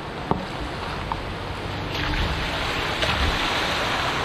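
A small car drives through water flowing over a road near Mount Barney National Park, giving a continuous loud rushing, splashing wash with wind noise and a few faint knocks throughout, no voices.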